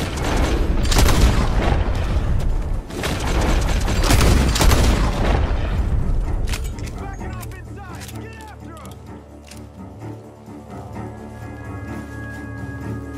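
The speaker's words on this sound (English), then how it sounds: "Gunshot! They're coming from that barn!" Gunfire and heavy booms in Red Dead Redemption 2 burst out loud and close during the first seven seconds of a Wild West shootout, then fade to a quieter stretch of ambient game sound.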